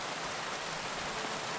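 Rain falls outside as a steady, dense hiss at an even level throughout, with no distinct drops and no voices.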